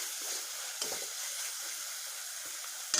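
Dahi bhindi masala with curd fries in a pan with a continuous hissing sizzle, close and even, broken by a few soft stirring scrapes and a brief louder burst near the end.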